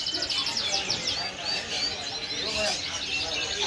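A dense chorus of canaries singing at a bird market, with bright trills and chirps overlapping steadily throughout, and a faint murmur of voices underneath.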